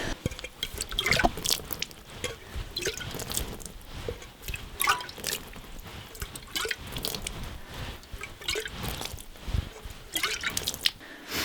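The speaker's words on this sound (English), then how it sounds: "So I'm just going to water these" Root-cellar vegetables being watered: close, irregular drips, splashes and wet squishes scattered across the stretch, no voices.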